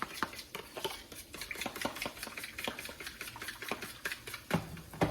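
Eggs whisked in a bowl with a utensil, a fast steady run of close clicking and tapping strokes against the bowl's side, continuing for several seconds with no talk.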